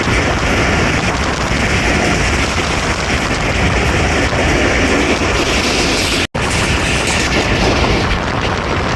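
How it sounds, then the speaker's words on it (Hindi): The 14 Down Awam Express thunders past at speed through Gujranwala Cantt, a loud, close, sustained roar of wheels and wagons with rapid rhythmic clatter, filling the whole stretch with a single brief cut partway through. "गुजरावाला कैंट रावली से पास थ्रू हो रही है 14 डाउन अवाम एक्सप्रेस"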